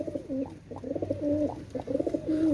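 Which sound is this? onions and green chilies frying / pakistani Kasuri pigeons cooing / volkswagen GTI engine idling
pakistani Kasuri pigeons cooing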